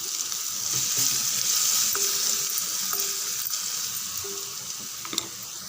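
Urad dal, dried red chillies, ground garlic and curry leaves fry in oil with a dense, continuous crackling sizzle, close and steady, with a few faint stirring knocks and no talking.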